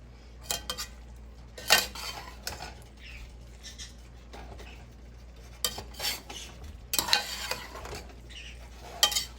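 Beef tikka pieces frying in oil in a karahi over medium-high heat, with repeated sharp metal clinks and scrapes of a spoon stirring against the pan over a faint background sizzle.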